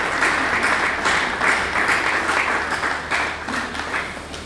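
An audience at an evening soirée applauds steadily for several seconds, a thick, continuous wash of many hands clapping with a few voices faintly mixed in.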